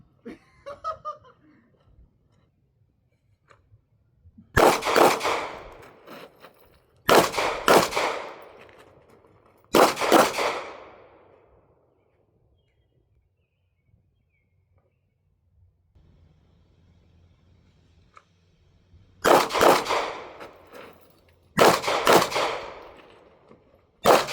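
A Ruger RXM pistol fires during shooting practice for a PCSL match, with loud, sharp shots in several clusters separated by quiet pauses, each cluster holding several quick shots.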